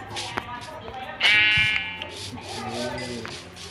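A blocky sheep in Minecraft bleats once, loud and close, in a short wavering call, with a few fainter game sounds before and after it.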